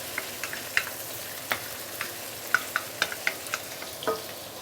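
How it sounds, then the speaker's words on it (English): Duck stir-frying with ginger, a soft continuous sizzle dotted with crisp spatula scrapes and clinks at an irregular rhythm, close by, no talking. "Here you can actually choose to stir fry until the surface char a little bit."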